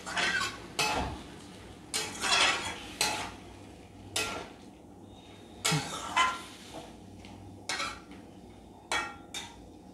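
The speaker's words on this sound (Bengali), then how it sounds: "এবার আমি এর মধ্যে একটু জল দিয়ে দেব, দিয়ে এবার ভালো করে নেড়ে নেব।" A spoon stirring curry masala in a pan after water goes in, repeated metallic scrapes and clanks against the pot at an irregular pace, with a faint sizzle underneath.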